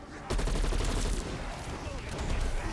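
Sustained automatic gunfire in a zombies shooter game, a dense rapid stream of shots starting abruptly and running loud and continuous to the end, with faint voice underneath.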